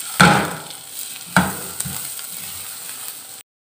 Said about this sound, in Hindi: करूंगी मैं गोंद फ्राई,